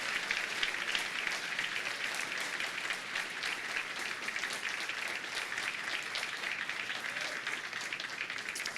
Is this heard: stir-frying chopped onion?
no